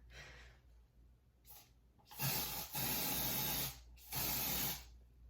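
Brushed bronze spray paint hisses out of an aerosol can in a light coat: two faint short bursts, then three louder sustained sprays, each about a second long.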